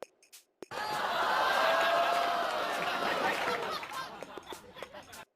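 A crowd breaks into sustained applause mixed with cheering and laughter after a stand-up comedy set, then it thins out into scattered claps.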